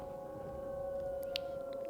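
Sirens wail in the video game Dying Light 2, a faint steady drawn-out tone under the game's background sound, with a brief click near the middle.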